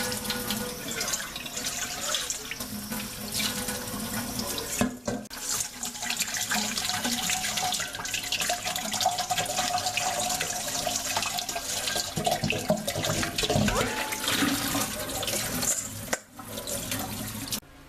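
Running tap water rinses crushed asparagus berry seeds in a fine sieve, a steady, close splashing flow with brief interruptions around five and sixteen seconds and no talking.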